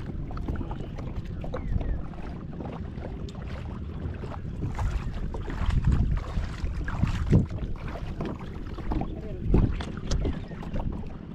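A kayak moving over open water, with paddle splashes and lapping water under gusty wind buffeting the microphone; irregular louder splashes come and go over a steady rush.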